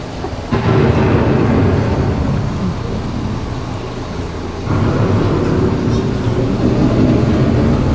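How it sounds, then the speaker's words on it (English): Thunder from an approaching storm rolls as a loud, continuous rumble with rain, swelling again partway through, no voices. "The approaching storm may seem violent and destructive to us, but to nature, it's a new beginning in the cycle of life."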